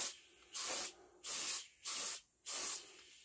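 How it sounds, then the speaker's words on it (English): An airbrush sprays paint onto an HO scale GE 70-ton model locomotive in five separate hissing bursts of steady, close spray, each lasting under half a second, with quiet gaps between them. "holding the airbrush far enough off the model so that the paint is just about dry when it hits the model"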